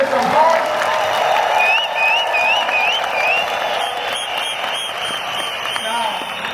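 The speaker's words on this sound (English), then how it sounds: "let's give the Home Office a hand of applause." A crowd at a business event applauds and cheers in a continuous, fairly loud wash, with whoops and voices mixed through the clapping.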